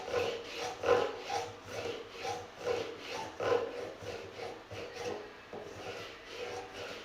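Rhythmic rasping strokes of a file scraping the metal of a cookie tin for a ukulele build, back and forth at a steady pace, fairly quiet and close, with no talking.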